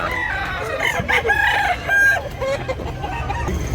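A Black Hennei rooster, a gamecock about a year old, crows loudly and close by in one drawn-out call, with clucks around it and no talk.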